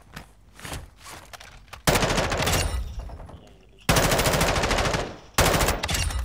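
M4 rifle fire in Call of Duty DMZ, loud, close automatic bursts lasting one to two seconds each, preceded by scattered single shots, with no talking.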